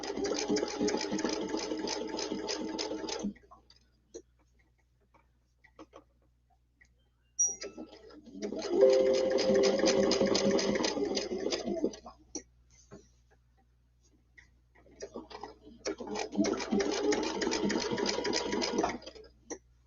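A sewing machine stitches a quilt in three steady, rapid runs of several seconds each, separated by quiet pauses with faint handling noises, heard close up.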